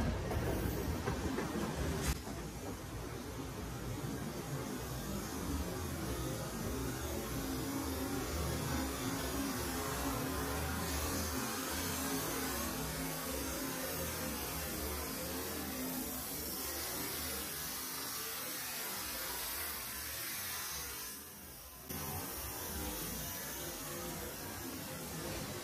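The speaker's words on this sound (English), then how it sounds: "Well, there's a wash train." An MBTA commuter rail wash train passes close by in slow motion, giving a steady, loud broadband rumble and hiss with a sharp onset near the start and a brief dip late on.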